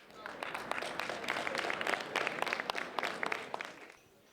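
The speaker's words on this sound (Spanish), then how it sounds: "Recibamos con un fuerte aplauso al abogado y director ejecutivo de APRIMIN, Sergio Hernández." A burst of audience applause, many hands clapping in a dense patter that swells and then fades out after about four seconds.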